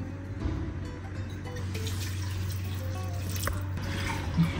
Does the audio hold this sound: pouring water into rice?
yes